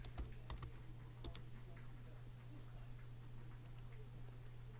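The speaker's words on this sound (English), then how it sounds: "I'm going to type live." Faint, sparse clicks of typing on a computer keyboard, a few quick key taps early and then scattered presses over a low steady electrical hum.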